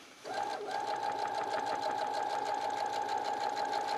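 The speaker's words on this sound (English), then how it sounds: "sew in the second side just the way you did the first" A sewing machine runs steadily on a gusset seam after a brief quiet start, its fast needle whirring continuous and close with a constant mechanical hum.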